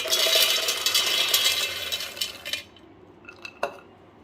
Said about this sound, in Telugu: ఒక మిక్సీ జార్ తీసుకొని అందులో పల్లీలు వేసుకున్నాం.